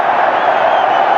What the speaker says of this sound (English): Crowd loving the tricks.